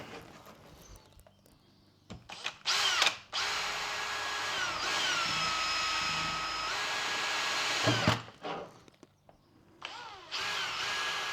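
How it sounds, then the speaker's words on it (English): A power drill bores screw holes for a fire extinguisher box on a fishing boat hull project, with a few short bursts followed by one long sustained whine, close and loud, and no talking. "So I'll quickly drill those."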